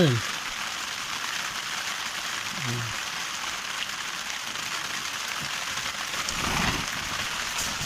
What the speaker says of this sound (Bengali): এই দেখুন কি হারে বৃষ্টি হচ্ছে